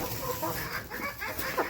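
A flock of farm chickens clucks and squawks in overlapping bursts, fairly close and busy, with one sharper call near the end.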